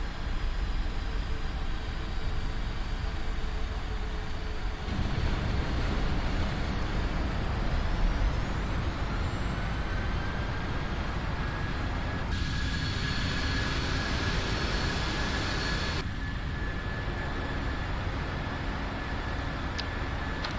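A PMDG 737 NG airliner in the Prepar3D flight simulator rolls out after landing as its jet engines spool up into reverse thrust, a steady loud roar with whining tones rising midway, then easing back.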